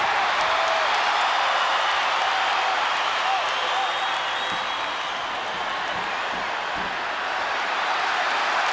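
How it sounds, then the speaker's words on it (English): A wrestling arena crowd roars and applauds in a dense, sustained wash of cheering and clapping, loud and steady, with a commentator talking over it. "The Royalist crowd is absolutely deafening."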